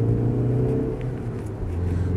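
Alfa Romeo 156 2.0 TS saloon with power steering accelerating on the road, a steady loud engine drone heard from inside the car that holds a low rumble as revs build, with no talking.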